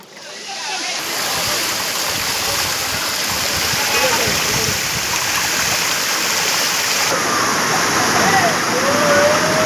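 Dharapalli waterfall, with water plunging from high above, makes a loud, steady broadband rush that stays close and constant throughout.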